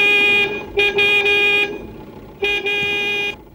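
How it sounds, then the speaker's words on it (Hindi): A car horn on a road sounds in long sustained honks, two blasts in quick succession, then a short gap and a third, loud and close. "इतनी देर से हॉर्न मारा सुना नहीं दे रहा?"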